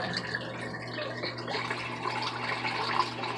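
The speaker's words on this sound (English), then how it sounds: "you can see the water going out the washing machine" Water drains out of a Kuppet portable washing machine, a soft continuous trickle and gurgle over a low steady hum, faint and close, with no voices.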